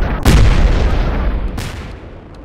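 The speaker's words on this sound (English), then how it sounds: "Explosions! I love explosions!" Explosions from an F-14 fighter jet combat game: a loud booming blast with a rumbling tail, followed by a second, weaker burst about a second later.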